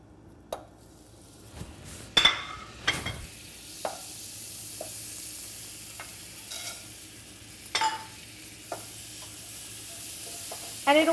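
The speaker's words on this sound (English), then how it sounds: "we're going to be taking our butter and we're going to be browning or toasting our vermicelli noodles" Vermicelli noodles toasting in butter in a pan give a soft, steady sizzle, broken by occasional scraping stirs and light clinks of a utensil against the pan, with no voices.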